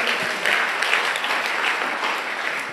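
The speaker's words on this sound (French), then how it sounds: "N'applaudis le Seigneur." A church congregation claps steadily for the Lord, a continuous wash of many hands at moderate loudness with no break.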